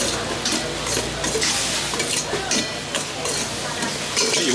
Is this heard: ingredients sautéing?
yes